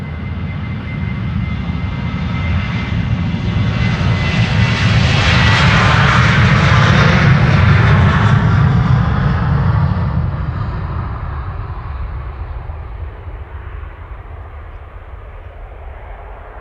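A six-year-old KLM Boeing 737 jet airliner, first flown March 2019, takes off from Amsterdam Schiphol for Stockholm, its loud engine roar building, peaking near the middle, then fading gradually as it climbs away, with no voices.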